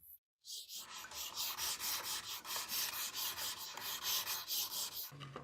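A boxwood comb's teeth are shaved by hand, giving a steady run of rhythmic rasping strokes at an even tempo, close and fairly loud, following a brief silent start and stopping near the end.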